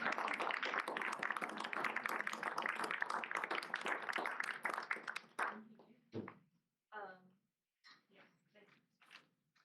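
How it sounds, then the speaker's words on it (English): Audience applause at a literary reading, a dense wash of clapping for about five seconds that thins into scattered final claps, with brief speech fragments afterward. "So if we could give Emmett another round of applause."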